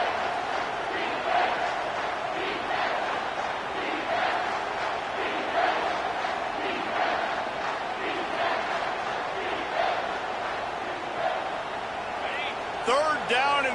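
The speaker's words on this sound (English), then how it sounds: "this crowd will blow out a vocal cord to help this defense" Stadium crowd in the NCAA 25 college football video game roars in a sustained, loud wall of cheering on a third down, with a commentator's voice talking over it and a few sharp whistles near the end.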